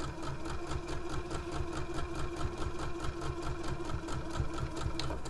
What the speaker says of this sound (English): A couple of top stitches there to lock that in place